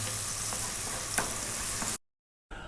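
Garlic fries hard over high heat, a steady close sizzle that stops abruptly into silence before a quieter hiss returns.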